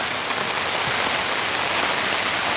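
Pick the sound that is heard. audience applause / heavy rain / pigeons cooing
heavy rain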